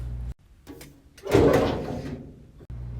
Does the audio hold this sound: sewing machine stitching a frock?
no